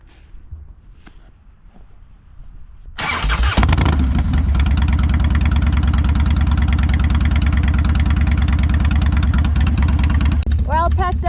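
A motorcycle parked at a dirt campsite cranks and fires after a quiet few seconds, then settles into a loud, steady, close idle that runs on, with a voice briefly heard near the end.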